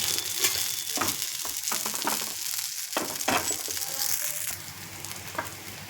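Green moong dhirde (savoury mung bean pancake) frying in a pan as a little oil is added at the edges: a steady close sizzle, broken by crackling bursts and a few light utensil clinks and scrapes.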